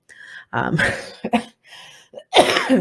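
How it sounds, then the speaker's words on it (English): Several harsh, bursty coughs and throat-clearing sounds from one person, close and loud, broken by short gaps. "This cough. So bad."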